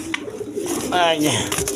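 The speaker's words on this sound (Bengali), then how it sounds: "এইখানে আরেক পেয়ার কোকা কবুতর আছে দেখেন" A pair of Koka pigeons gives a brief, close cooing call amid faint background noise, with a voice nearby.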